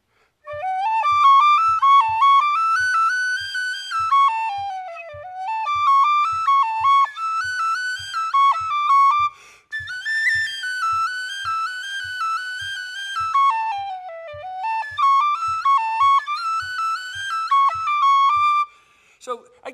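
A bright tin whistle plays a lively, lilting Irish dance tune alone, steady and close, with a soft rhythmic tap keeping time beneath.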